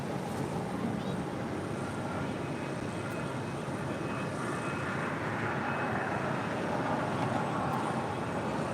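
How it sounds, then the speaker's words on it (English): Airliner on flight 2950 from San Antonio, Texas, arriving at an airport: a steady, broadband jet engine roar heard from a distance, holding constant for several seconds with wind noise on the microphone. "she is coming in from San Antonio, Texas, flight 2950"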